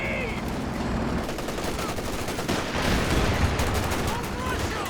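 Heavy machine gun fire in a Company of Heroes 2 1v1 match crackles in dense, rapid bursts mixed with other battle gunfire, continuous and fairly loud without a spoken voice.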